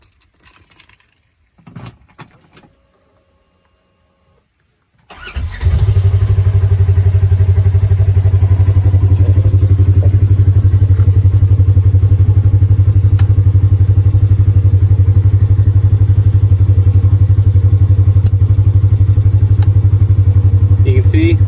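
A Polaris RZR XP engine starts after a few seconds of key jangling and clatter, then settles into a loud, steady, deep idle that holds close and constant.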